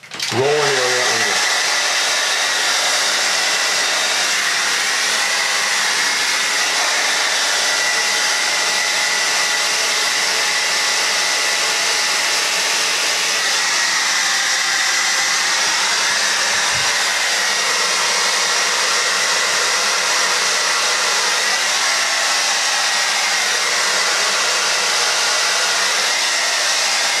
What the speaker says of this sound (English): you're not going to get as much bang from a hairdryer anymore if it's too dry